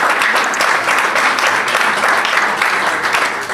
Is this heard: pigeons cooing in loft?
no